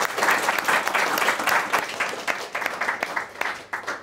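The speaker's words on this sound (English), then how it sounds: "give our panel a small clap of applause" A live audience claps for a panel on women in sports technology: dense, lively applause that is strong at first, then thins into scattered, fading claps.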